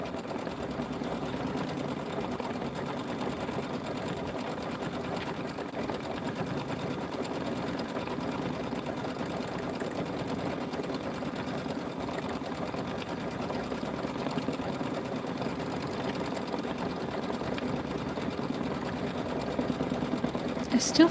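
A sewing machine stitches a quilt in a long, even, continuous whir that holds steady throughout, with a voice talking faintly in the background.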